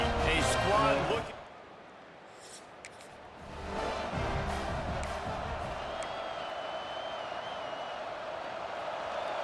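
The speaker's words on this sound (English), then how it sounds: "This crowd bringing an ear-splitting welcome to their visitors." A college football video game crowd at the Florida Gators' stadium, the Swamp, erupts in a loud burst of cheering that quickly drops to a steady roar beneath a play-by-play commentator's voice.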